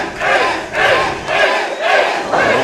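Wrestling fans in a San Francisco hall at the United Irish Cultural Center roar in repeated rhythmic chant-like surges, about four loud pulses echoing through the room.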